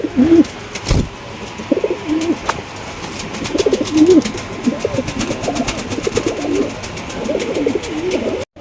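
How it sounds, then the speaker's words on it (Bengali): Large Lahori pigeons coo repeatedly in soft, rolling bursts, several birds overlapping close by, with a few sharp knocks and faint background noise. "একদম বিগ সাইজের লাহোরি কবুতর"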